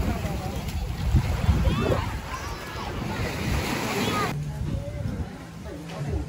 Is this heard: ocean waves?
yes